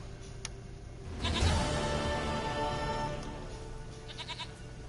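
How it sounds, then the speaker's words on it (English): A goat bleats in The Witcher 3: Wild Hunt, a single drawn-out, wavering bleat rising over a steady ambient game background, with a faint short chirp just before it and soft high tones trailing at the end. "Goat of mine, dearest, sweetest goat."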